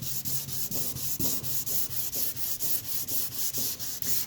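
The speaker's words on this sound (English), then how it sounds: "you really only want to sand till you achieve your goal there of getting rid of what you want to get rid of" 400-grit sandpaper sanding paint by hand in quick, even back-and-forth strokes, a close, rhythmic scratchy rasp with no talking.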